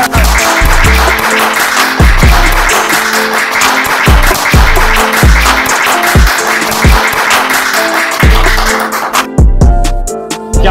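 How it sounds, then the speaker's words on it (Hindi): Loud, close applause welcoming a Mumbai rapper, dense clapping layered over rhythmic thumping beats, thinning out near the end. "देखो इतनी सारी तालियों से आपका स्वागत करा मैंने भाई"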